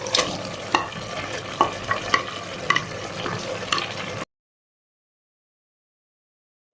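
Mutton pieces with green chillies stirred and frying in a pot for shab daig with turnips, a steady close sizzle broken by scraping spoon knocks for about four seconds, then silence.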